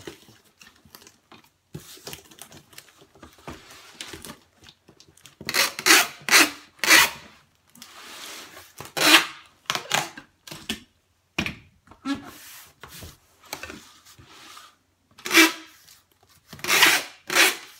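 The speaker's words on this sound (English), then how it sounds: "You really got to squeeze these boxes together." Cardboard shipping boxes for Guitar Hero controllers are squeezed together by hand, making repeated loud rasping, scraping bursts close by, separated by short quiet gaps.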